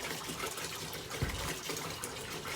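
Water gushing and splashing as six liters are poured into a container for mixing probiotic feed, a steady rushing flow with a brief heavier splash midway.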